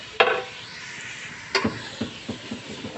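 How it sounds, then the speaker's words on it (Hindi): Vegetables frying in ginger garlic paste in a pan over a medium flame, with a sharp stir at the start and another midway, then soft scraping taps and a steady low sizzle that runs throughout. "और सारी वेजिटेबल्स को भी मैं इसके अंदर फ्राई कर रही हूँ।"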